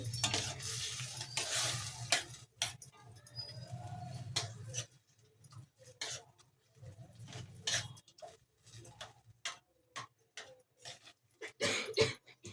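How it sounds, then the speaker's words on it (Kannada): Spoon stirring Bombay aloo masala palya with added water in a pan, intermittent scraping and clinking strokes with soft wet sloshing, quiet and close, separated by brief pauses. "ಈ ರೀತಿ ಚೆನ್ನಾಗಿ ಮಿಕ್ಸ್ ಮಾಡ್ಕೊಳ್ಳಿ"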